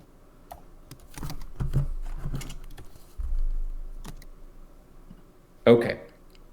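Computer keyboard keys clatter in short irregular bursts of typing and clicks, close and fairly loud, with background speech-like noise and a sharp louder knock near the end.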